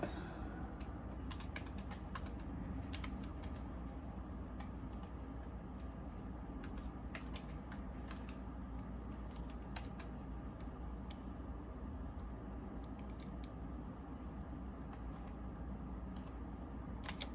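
Fingers tap steadily on a computer keyboard, a faint, close stream of light clicks with occasional sharper keystrokes over a low background hum, continuing alone without talk.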